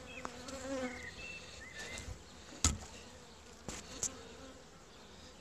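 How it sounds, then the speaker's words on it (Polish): Agitated Buckfast honey bees buzz around a beekeeper during a spring hive inspection, a continuous close droning hum with individual bees zipping past the ear, plus a few sharp knocks and handling noises. "parę pszczół za mną lata, wkurzone"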